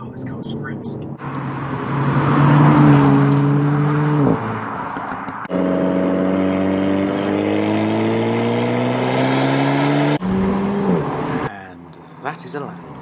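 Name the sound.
Renault Megane RS 300 2021 engine revving on track lap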